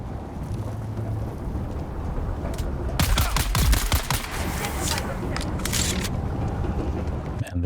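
Aluminium rifle fire in Dune Awakening, sharp rapid bursts clustering in the middle and again later over a rumbling, windy background, close and loud, with no talk.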